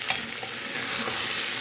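Pork sarapatel fries in a hot pan with a steady, close sizzle while a utensil scrapes and stirs through it in a few soft strokes, with no talking.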